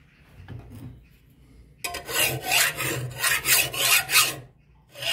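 A file rasps across a forged steel knife blade in quick, steady back-and-forth strokes, harsh and close, after a quieter lead-in with faint scraping.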